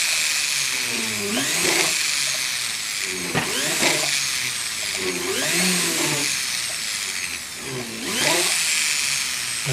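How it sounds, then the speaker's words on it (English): A drill with a sharp bit boring holes in metal for a Celtic-design pendant at a jeweller's bench, whining in four or five short bursts with brief pauses between, fairly close and moderately loud. "Okay, all of the holes are drilled."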